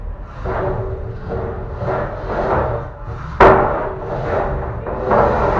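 A 1.36 kg beetleweight combat robot driving around an arena in a test run, with whining drive motors rising and falling in repeated surges, a sharp knock or impact partway through, and rattling scuffs.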